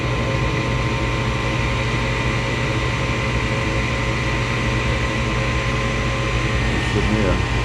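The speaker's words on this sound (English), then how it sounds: "The inducing motor starts." A furnace inducer motor runs as the heating system starts up, a loud steady low drone and whir holding even throughout with no pauses.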